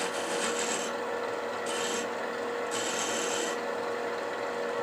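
Hand sanding of a turned wooden rook chess piece box, a close steady scratchy rubbing with strokes that rise and fall in brightness, no voices.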